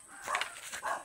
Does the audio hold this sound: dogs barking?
yes